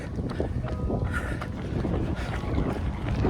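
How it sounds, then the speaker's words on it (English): Strong headwind buffets a runner's microphone during a threshold interval run, a constant loud rushing roar with gusty swells throughout. "Plus I'm running into really strong headwind."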